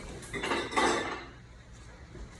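Washed wide-mouth glass canning jars clatter and clink as they are set down in a kitchen sink, a short cluster of glassy knocks that fades to quiet.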